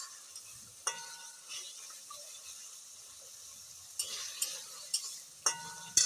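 Food is stirred in a frying pan over a soft sizzle, with a spoon scraping and knocking against the pan in scattered strokes. The clatter comes in a cluster near the end, close by and moderately loud.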